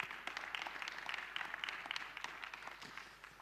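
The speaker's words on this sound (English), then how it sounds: "Can we have some applause, please," Applause for a speaker at a natural disasters management summit, a steady spread of many hands clapping that carries on throughout and fades slightly toward the end.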